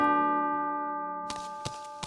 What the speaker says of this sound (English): The clock struck twelve, he heard the bell.